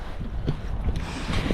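A strong, fresh northeasterly wind buffets a campsite in Jersey, a steady broadband roar with gusty swells throughout, close and loud at the microphone with no voices.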